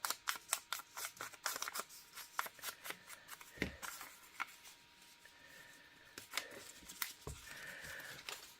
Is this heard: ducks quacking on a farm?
no